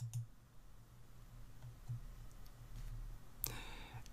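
A mouse click selecting a spreadsheet cell in Excel: one sharp, crisp click near the end, preceded by a few faint ticks over a low, steady room hum.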